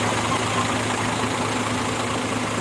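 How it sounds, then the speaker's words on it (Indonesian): A Makmur Trijaya Union double-decker bus idles at a bus terminal, its engine giving a steady, loud, even rumble close by with no talk over it. "Dengarkan mesinnya."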